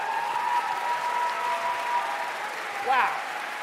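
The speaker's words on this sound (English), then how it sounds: "Drennan, can you stand up and take another round of applause, please?" Audience applause at a middle school closing ceremony, sustained clapping from a crowd with a faint tonal hum underneath and a brief voice rising near the end.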